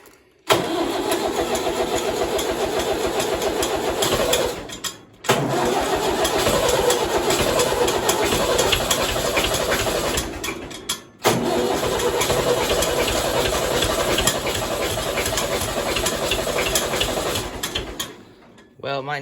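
A tractor engine cranks and catches, then runs at a steady loud idle, cutting out briefly twice and restarting before settling into a continuous rumble.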